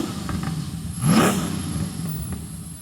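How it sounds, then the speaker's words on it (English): A Lamborghini with an LS engine idles, then briefly revs up and settles back to a steady rumble, close by with no talking. "This engine is phenomenal."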